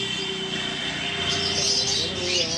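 Caged birds at a bird market, including cockatiels, Java sparrows and lovebirds, chirp and tweet in a dense, continuous chorus, with some faint voices and background noise.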